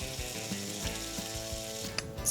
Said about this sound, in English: I cook some bacon